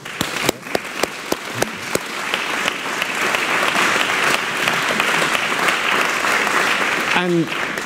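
Steady applause from a conference audience thanking four panellists at a business launch event, a few sharp individual claps at the start swelling into dense, sustained clapping that fills the room and runs to the end.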